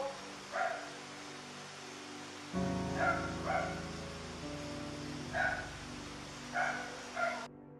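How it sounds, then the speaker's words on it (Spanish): A dog barks inside a house, a series of about six separate yips and barks in irregular pairs over a low steady hum, sounding slightly muffled and at moderate distance. "El único ruido que se escuchaba desde el interior eran los ladridos del perro Dieter."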